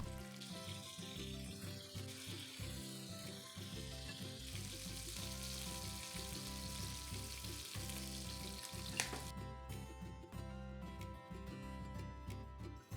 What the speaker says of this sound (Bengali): এবার গরম তেলে নুন হলুদ মাখা মাছগুলোকে ভালো করে ভেজে নেব।